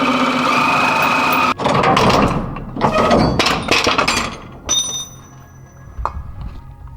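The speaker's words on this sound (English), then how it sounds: "The bolt is getting cut off." A power tool cuts through a car bolt, a harsh grinding burst that drops out abruptly, then returns in several rough bursts of varying strength, with short metallic clinks in between.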